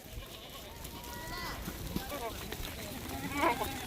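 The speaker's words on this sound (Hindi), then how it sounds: "माशाल्लाह, इतनी खूबसूरत लाट है बकरों की अल्हम्दुलिल्लाह। टोटल 300 बकरा" Goats and bucks penned together in a large herd of about 300 held for Eid sale, bleating in scattered wavering calls that rise louder near the end over a steady murmur of background noise.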